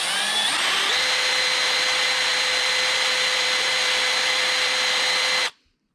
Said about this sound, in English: Try to hold the drill perpendicular to the neck.